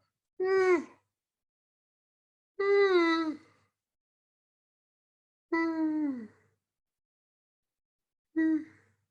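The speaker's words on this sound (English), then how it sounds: "So let's do some yawning now." Four long, voiced yawns from a group, each drawn out and falling in pitch, separated by silent pauses, done as a freediving equalization exercise.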